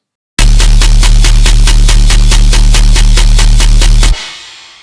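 Very loud tearout synth bass from Serum, squashed by maximizer limiting, pounds in a tight, even rhythm for around four seconds before stopping abruptly and leaving a brief decaying tail.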